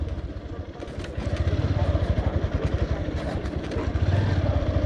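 A motorcycle ridden over a broken, potholed rural road between Dhobaura and Tarakanda, its engine throbbing steadily and close, with a rough, rattly clatter from the uneven surface throughout.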